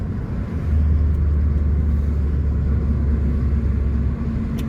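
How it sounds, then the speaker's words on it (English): A car engine drones steadily at close range while driving, a continuous low rumble with a faint high turbo whine riding above it, no voices. "You can hear the turbo right now."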